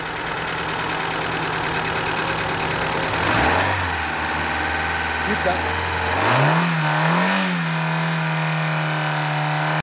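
Kia Pride 1.3 engine idling, then revved twice with rising and falling pitch before settling back to idle, close and steady under a brief spoken word.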